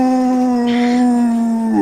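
A person's voice imitates a huge, loud, bullish howl echoing toward a cave during a tabletop role-playing game, a single steady, sustained tone that holds close and strong for about two seconds.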